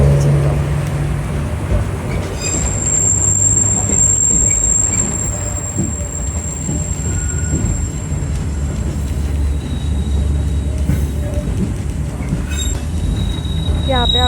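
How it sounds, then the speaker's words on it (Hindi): A single vintage-style train car runs steadily at Old San Jose's Japanese Garden, with a continuous low rumble and rattle, a long high wheel squeal across much of the run, and faint background voices. "उसका आवाज़ भी सेम था कि ऐसे ओल्ड ज़माने में कैसे वो ट्रेन चलती थी"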